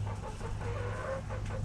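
A backyard flock of seven hens and two roosters clucks in short, irregular calls, close by over a low steady hum.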